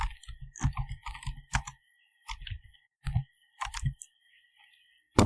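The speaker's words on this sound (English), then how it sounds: "then click on search, then search for control panel" Computer mouse clicks and keyboard typing come in short bursts separated by quiet gaps, close up and crisp, with no voice over them.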